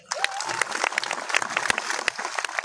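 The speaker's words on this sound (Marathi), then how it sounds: "एकदा पुन्हा जोरदार टाळ्या द्या" Audience applause at a Buddhist Dhamma conference, a short burst of dense, close clapping from a seated crowd that holds steady with no voices over it.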